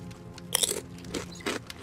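Crunchy biting and chewing as cooked chicken is eaten in the survival video game Rust, a few close, distinct crunches in quick succession with no talk.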